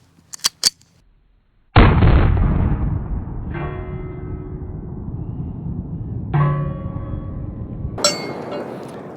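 Walther PPK pistol fired at an outdoor range: a few faint clicks, then three loud, sharp reports spaced a couple of seconds apart, each with a ringing metallic decay, the last one cut off.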